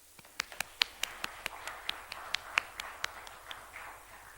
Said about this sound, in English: Please applaud.